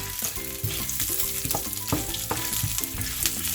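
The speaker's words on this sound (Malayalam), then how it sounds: "എന്നിട്ട് ശരിക്ക് ഇളക്കണം. എണ്ണയ്ക്കകത്ത് കിടന്ന് ഇത് മൂക്കണം." Grated coconut, garlic and other ingredients fry in oil in a pan with a steady crackling sizzle and occasional stirring scrapes, a tonal musical background running underneath throughout.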